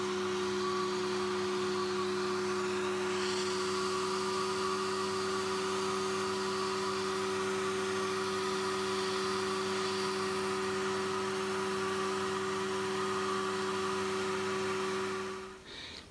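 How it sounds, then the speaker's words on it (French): A vacuum cleaner running steadily to evacuate a latex vac bed, a loud, constant whining hum that holds unchanged for about fifteen seconds before cutting off at the end. "Je vais glisser ma main à l'intérieur du vac bed, et puis je vais faire démarrer l'aspirateur."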